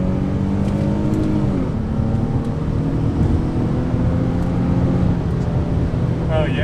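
A 2003 Infiniti G35 sedan with a five-speed automatic climbs toward 6,000 RPM on a winding mountain highway, its engine droning loud and close with a rising pitch, a brief dip at a shift, and a steady high rev.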